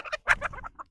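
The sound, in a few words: chickens clucking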